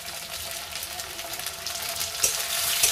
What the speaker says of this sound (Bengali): এবার যে টমেটোগুলো কুচিয়ে রেখেছিলাম সেই টমেটোগুলোকে আমি দিয়ে দেবো।